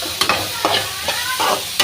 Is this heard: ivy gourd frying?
yes